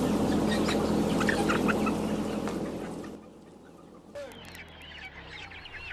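Crowded factory-farm broiler chickens cluck and murmur as a dense flock, loud at first, then quieter with a few scattered calls.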